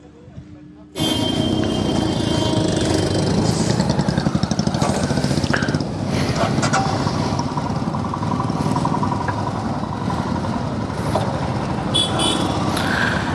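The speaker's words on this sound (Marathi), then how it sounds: "Let's get on a motorcycle." A motorcycle engine starts up and runs nearby on a Mumbai–Ladakh bike ride, giving a steady rumbling idle with a brief pulsing rev. Wind and traffic noise sit around it.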